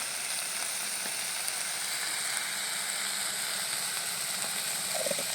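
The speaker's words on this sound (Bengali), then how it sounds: "লবণ হলুদটা দিয়ে আমি একটু কষিয়ে নেব" Fish frying in a pan after salt and turmeric are added, giving a steady, close sizzle with faint crackles throughout and no talking.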